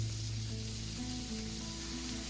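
A pot of chicken and dumplings boils on the stove as dumplings go in one at a time, giving a steady close bubbling sizzle throughout with no talking.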